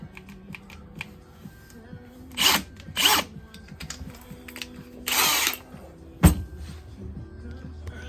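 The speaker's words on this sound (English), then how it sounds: "got my Milwaukee drill" Several short bursts of a Milwaukee cordless drill whirring, separated by clicks, taps and quiet handling noises.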